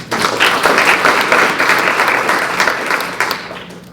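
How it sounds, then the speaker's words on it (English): Full, steady applause from an audience at a poetry recitation competition, loud and close, holding evenly for a few seconds before easing slightly at the end. "Let's give a round of applause for Thomas."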